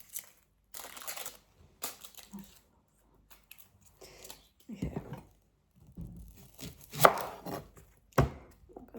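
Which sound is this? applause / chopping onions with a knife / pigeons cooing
chopping onions with a knife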